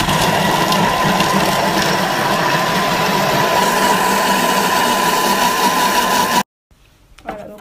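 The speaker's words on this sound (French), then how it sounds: "Je vais venir hacher le tout. 10 secondes, vitesse 5." A Thermomix food processor whirs steadily at speed 5 while chopping ingredients, a loud, constant mechanical hum with a steady tone lasting about six seconds before stopping, followed by faint clatter.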